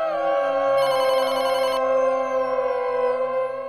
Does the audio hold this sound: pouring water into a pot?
no